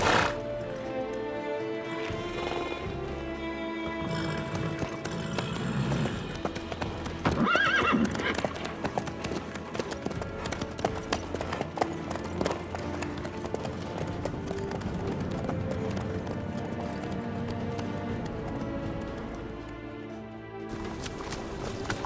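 A horse gallops in The Witcher 3 on PS5, hooves pounding in a fast, steady rhythm for the whole stretch, with occasional snorts and neighs over ambient game music.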